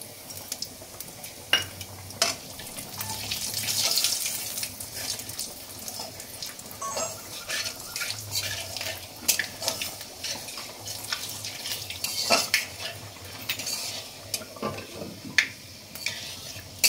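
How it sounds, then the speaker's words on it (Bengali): Panch phoron spices crackling in hot oil for a ridge gourd, potato and prawn curry, with steady close sizzling, scattered pops and occasional utensil clinks, no voices. "তেলটা গরম হয়ে গেছে, একটু পাঁচফোড়ন দেবো।"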